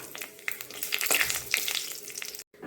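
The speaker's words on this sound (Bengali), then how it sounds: "আলু ভাজা তেলের ভিতরে দিয়ে দেবো জিরে, তেজপাতা, শুকনো লঙ্কা" Cumin, a bay leaf and dried chillies are dropped into hot oil left from frying potatoes, giving a close, crackling sizzle with spattering pops that runs steadily and then cuts off briefly near the end.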